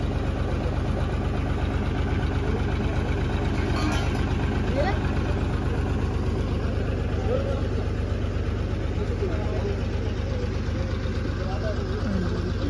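A generator runs steadily with a droning, continuous hum throughout, powering a band vehicle's hydraulics, lighting and sound system in Nashik, with faint background voices.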